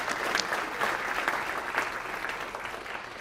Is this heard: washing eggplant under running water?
no